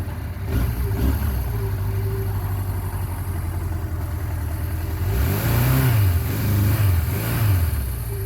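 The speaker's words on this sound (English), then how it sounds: "we'll let it sit here and idle for a minute, warm back up" A 1978 Suzuki GS750 motorcycle engine idles steadily up close after being ridden and cooling off, a continuous low throb with a slight rise and fall in pitch near the end.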